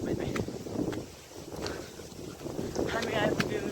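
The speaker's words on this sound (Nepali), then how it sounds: "आहा यस्तो मिठो हावा चल्दैछ" Wind gusts across a hilltop, buffeting the microphone with a steady rumbling roar that rises and falls, while a voice speaks faintly underneath.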